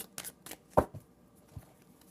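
Tarot cards are shuffled by hand, a few quick papery riffles and soft taps over about two seconds, close and quiet with no talking.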